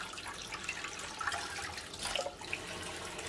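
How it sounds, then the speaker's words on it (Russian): A gas boiler part is rinsed under a running tap, a steady hiss of flowing water with splashing and small shifting spatters as the part is moved in the stream, close and continuous. "Просто под струей воды."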